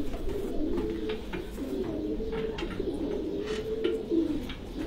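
Pigeons coo steadily and close by at a Farran pigeon flying tournament in Gujrat, a continuous low murmur of overlapping calls with no talk.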